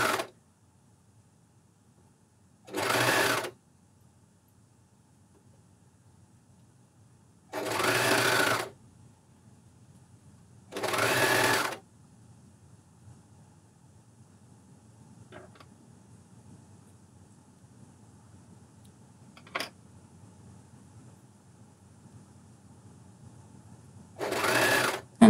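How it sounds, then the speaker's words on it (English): A Juki MCS1500 coverstitch machine stitches garment armholes in the round, running in four short bursts of about a second each, separated by quiet pauses with faint clicks. "And now we are going to cover stitch the armholes again in the round."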